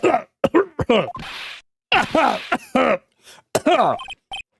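Gumshoe, the detective from Phoenix Wright: Ace Attorney, lets out a run of sharp, close coughs and throat-clearing bursts in uneven clusters, with brief pauses between the spasms.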